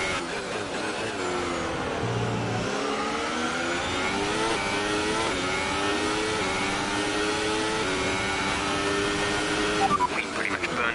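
A Formula 1 car in the F1 2018 video game, at the Hungary Grand Prix, revs hard and accelerates. Its high, loud engine whine climbs in pitch through several upshifts, continuous and close throughout.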